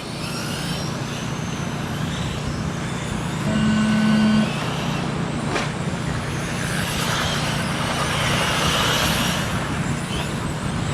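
Race cars roll out together at the start of a TARCAR round in Toledo: a steady, dense rumble of several engines at moderate distance, with a short tonal blast like a horn partway through.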